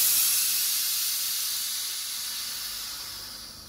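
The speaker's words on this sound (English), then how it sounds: "Need to release the gas first" A beer keg lid being released on a batch of NEIPA sends out a strong, continuous hiss of escaping gas, loud and close at first and then slowly fading, with no voices.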